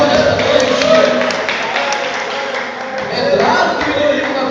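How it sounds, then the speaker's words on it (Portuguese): A church congregation applauding during an evening service: dense, steady clapping mixed with crowd voices and cheering fills the clip at an even, fairly loud level. "Quem crê assim glorifica e aplaude o Senhor nesta noite."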